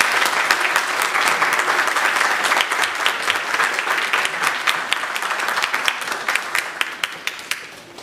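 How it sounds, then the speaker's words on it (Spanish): Audience applause at a Mexican panel discussion on animal rights, a dense burst of many hands clapping for about eight seconds, gradually thinning out toward the end. "para quien pido un fuerte aplauso, por favor"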